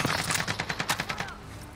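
An LMG in a battle royale game fires a rapid burst of about ten close, evenly spaced shots, then falls into a short fading echo.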